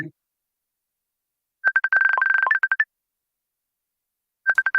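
A phone rings with an incoming call, giving electronic tone bursts in a quick trilling pattern, then a pause and another short burst; a faint snippet of voice sounds at the very start.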